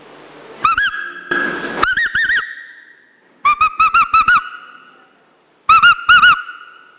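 An Asian koel calls in three bursts of quick, repeated rising whistled notes, clear and close, with short silent gaps between the groups and no talk.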